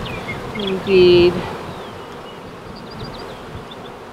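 Honey bees buzzing around an open hive while frames are worked on, a dense steady drone close to the microphone with one bee whining past loudly; a voice speaks briefly.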